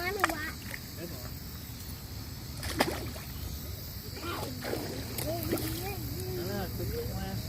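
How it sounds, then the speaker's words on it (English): Children splash water beside a kayak outdoors, scattered light splashes mixed with kids' excited voices and chatter, insects buzzing faintly in the background. "Quit splashing over here."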